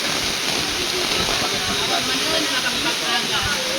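Floodwater rushing during a typhoon, a dense, unbroken roar of churning water that stays loud and close for the whole stretch.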